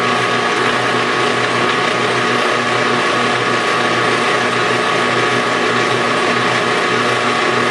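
A metal lathe takes a light finishing cut on a reamed part, a steady loud whirring machine drone with a constant hum, continuous and unbroken throughout.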